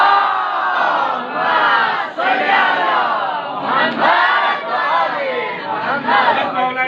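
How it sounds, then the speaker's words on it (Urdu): A large crowd at a religious gathering shouts Muhammad in unison, loud and close, with the massed voices swelling and falling in repeated waves. "بلند آواز سے آواز دیجیے محمد"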